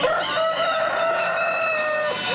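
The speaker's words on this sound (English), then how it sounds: "roosters can crow whenever they have their heart's desire" A rooster crows loudly and close by, one long drawn-out call.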